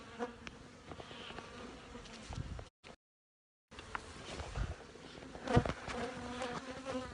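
Honey bees swarm around hive comb, a dense steady buzz of many wings close by with individual bees whining past, broken by a brief gap of silence partway through.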